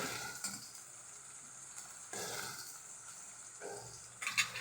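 Ginger and green chillies sauté in a hot pan over high flame, a soft steady sizzle with brief stirring scrapes and bursts, no talk.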